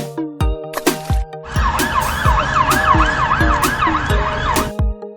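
A toy police car siren wails in a fast, regular up-and-down yelp for a few seconds, loud and close, over plucky percussive background music that continues before and after.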